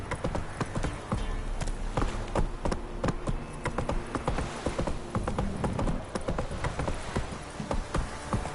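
Horse hooves clip-clop steadily on the ground in The Witcher 3: Wild Hunt, a continuous close rhythm of hoofbeats with a faint ambient bed of insects and distant background sounds.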